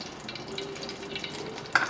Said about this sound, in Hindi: सबसे पहले इसमें मैं 2 टेबलस्पून मक्खन के डालूँगी जो मैंने मेल्ट कर लिया था